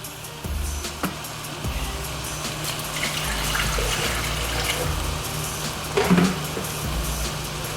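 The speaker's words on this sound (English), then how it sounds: "Now we're going to pour some vinegar," Vinegar pours steadily into a glass jar for several seconds, with a few clinks and knocks of glass nearby; no one speaks.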